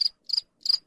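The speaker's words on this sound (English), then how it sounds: "We need a cricket." Three short bursts of cricket chirping, evenly spaced, each a bright trilling pulse standing alone against silence.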